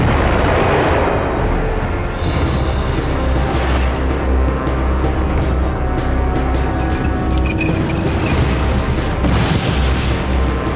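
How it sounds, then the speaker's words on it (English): German 88mm Flak gun, a high-velocity anti-aircraft weapon, firing in wartime Normandy: loud, dense booming and rumbling blasts with crackling debris, sustained and close, with no talk. "The 88 Flugabwehrkanone, the 88mm flat gun."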